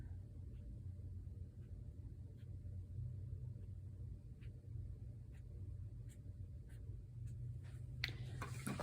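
A paintbrush, held sideways, is drawn down through wet paint on journal paper: a faint, soft scratching with a few light ticks under a steady low room rumble.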